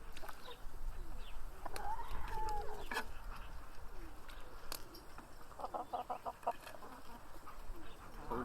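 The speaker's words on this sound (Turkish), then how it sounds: "Tavuklara bak nasıl yiyor bak." Chickens clucking and pecking nearby, with scattered soft clucks and short calls over a busy background of scratching and movement.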